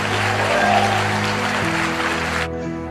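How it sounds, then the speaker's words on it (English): An audience at a motivational talk gives a round of applause, a broad wash of clapping with a sustained musical tone underneath that drops away near the end. "Give yourselves a round of applause."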